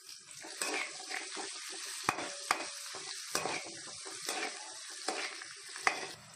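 Onions fry in a pan for a spicy hotel-style chicken dish, a soft steady sizzle broken by sharp stirring clacks and scrapes of a spoon against the pan at irregular intervals.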